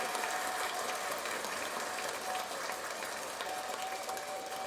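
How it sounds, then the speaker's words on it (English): Steady, dense applause from a crowd, even and continuous throughout without any talking over it. "give him a round of applause"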